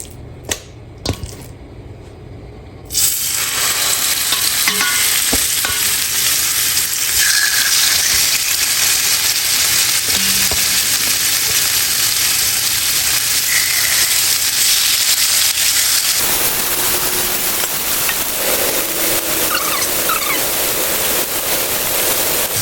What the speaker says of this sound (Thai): จากนั้นก็จะใส่หมูลงไป นี่ หมูของเรา